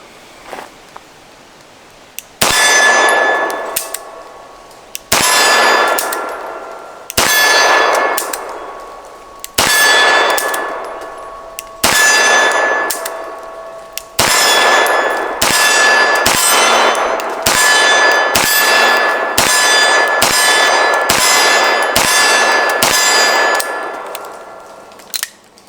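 A Beretta M9 pistol fires about fifteen loud shots at a range, each with a sharp crack and a ringing metallic clang that trails off. The shots come slowly at first, then in a quicker string.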